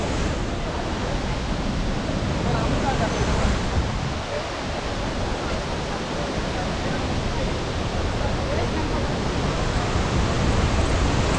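Lakkam waterfall near Munnar pours with a loud, unbroken roar of rushing water, heard close and steady throughout, with voices partly buried beneath it.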